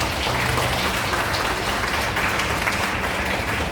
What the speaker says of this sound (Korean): 두 분께 큰 박수 보내주시기 바랍니다